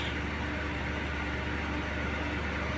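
A 2014 Land Rover's engine idles steadily after repair work, a constant low, even drone with no revving, close and uninterrupted for the whole stretch.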